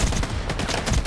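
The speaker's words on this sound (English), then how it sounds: "So we got a gun battle now" Rapid gunfire bursts crackle through a combat firefight in the first-person shooter game Stalker 2: Heart of Chornobyl, loud and dense, with overlapping shots and no pauses.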